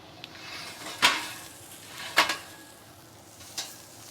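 A prime ribeye steak sizzles faintly on a Weber Jumbo Joe charcoal grill as it is flipped, with three sharp metallic clanks of tongs or grate over a low crackling background.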